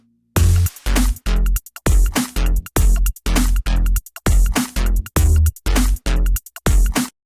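A mastered electronic music track plays loud and punchy, with sharp rhythmic bursts separated by short gaps.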